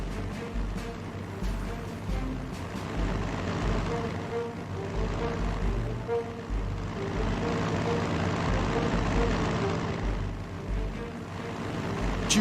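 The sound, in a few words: bomber plane moving in the video game Panzer Strategy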